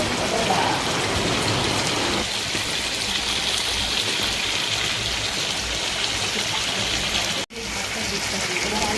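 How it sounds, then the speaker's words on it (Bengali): Meat frying with spices in a pan, a dense, steady sizzle like hissing rain that fills the whole stretch, with one brief dropout near the end. "তো এবার মশলার সাথে মাংসটাকে কষানো হচ্ছে।"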